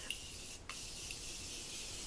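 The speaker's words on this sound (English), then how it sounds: "I'm gonna go ahead and spray that all over," A quick hiss of makeup setting spray misted over a powdered face, one short burst near the start, faint and close, followed by quiet room hiss.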